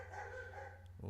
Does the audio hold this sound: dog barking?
yes